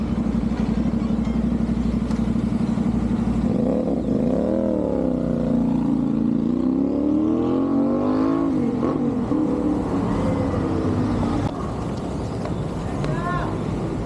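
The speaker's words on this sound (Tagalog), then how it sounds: "try natin na tumatakbo na yung motor, no?" A CFMoto 450NK motorcycle with an aftermarket exhaust runs steadily and revs up and down, a loud, throaty exhaust note near the listener with a person's shout over it.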